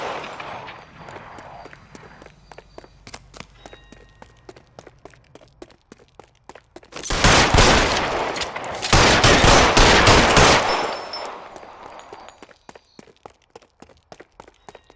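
Gunfire in L.A. Noire during a foot chase: rapid, sharp shots in quick succession rising to a dense, loud burst of sustained firing in the middle, with scattered footsteps and impacts before and after.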